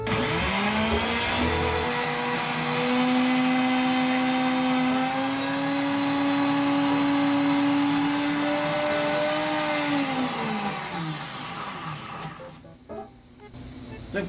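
An electric blender grinds ice for dalgona bingsu, a loud rising motor whine that holds steady for about ten seconds before winding down and stopping, with a brief rattle at the end.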